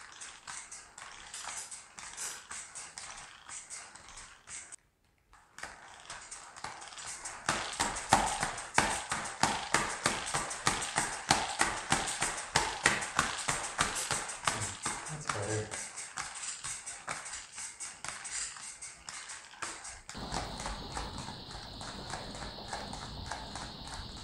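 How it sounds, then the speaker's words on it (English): Passive VR locomotion shoes tap and clack in a fast, even rhythm of steps, while the support rig squeaks now and then, heard up close from a chair-mounted microphone with a short pause partway through. "Most of the noise now is coming from the squeaking from the support rig, which I have some ideas on how to eliminate."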